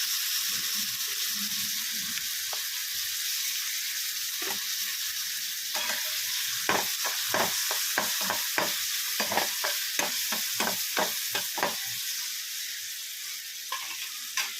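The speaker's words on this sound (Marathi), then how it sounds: "तर टॉमॅटो छान असा परतून घेणार आहोत त्यामध्ये थोडीशी हळद टाकून घेणार आहोत" Tomatoes with a pinch of turmeric sauté in a pan under a steady sizzle, broken by a quick run of sharp spatula scrapes and taps in the middle, close and without speech.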